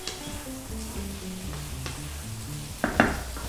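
Eggplant for spicy, tangy achari baingan frying in a pan, a steady low sizzle with stirring scrapes throughout and a brief louder clatter near the end, no talking.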